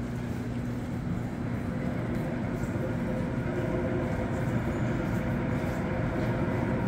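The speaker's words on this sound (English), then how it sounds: "One of my favorite sounds is metal on metal when it comes to the Metro" A Montreal Metro MR-73 train arriving at a station, a continuous loud rumble of metal wheels on rails with a steady low hum running throughout, close by and without pause.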